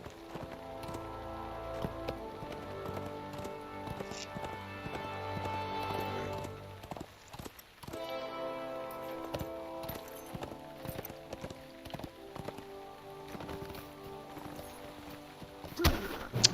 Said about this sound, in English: I bet I could take this horse from here down.